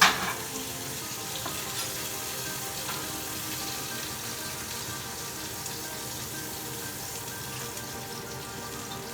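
Meat searing in a hot pan gives a steady, close, continuous sizzle and crackle that runs throughout with no voices over it.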